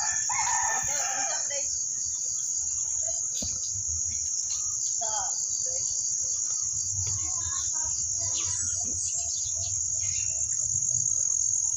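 Chickens cluck and a rooster crows amid a constant shrill chorus of crickets, with scattered rustling and farmyard noises.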